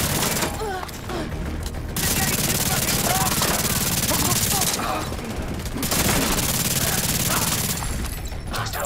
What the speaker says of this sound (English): Radio intercepted. I hear gunfire.